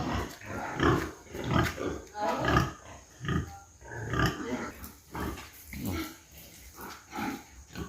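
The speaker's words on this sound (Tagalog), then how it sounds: "Mga baboy. Ang dami." Many pigs, large and small, on a pig farm in Tiaong, Quezon, grunting and squealing in repeated bursts, close and loud throughout.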